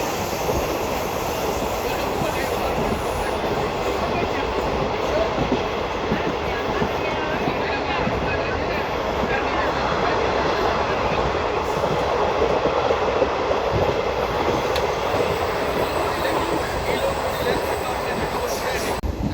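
A DEMU train running on rails between Wankaner and Morbi gives a loud, steady, close rumble of wheels and carriage noise that continues without a break.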